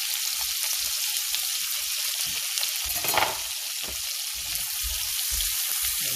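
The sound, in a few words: chopped onion and garlic frying in a pan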